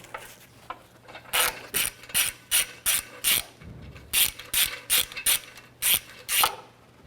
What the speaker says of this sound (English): I'll try and spin that off now.